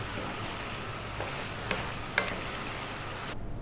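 Sausage and mushroom pasta is stirred in a hot pan, giving a steady sizzle with a couple of sharp utensil clinks before the sound drops away at the end.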